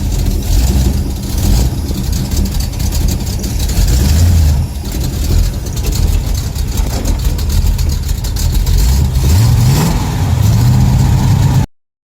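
The engine of an automatic Pontiac car revs steadily while driving, a loud continuous rumble with rising and falling pitch as it accelerates, until it cuts off abruptly at the end.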